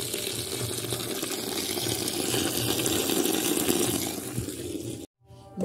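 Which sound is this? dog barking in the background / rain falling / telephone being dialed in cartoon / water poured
water poured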